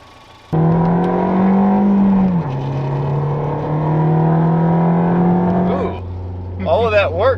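A Ford Focus ST fitted with a limited-slip differential pulls hard in first gear, its engine roaring loudly as the revs climb and then drop at the shift, ending in a lower idle as a person speaks over it.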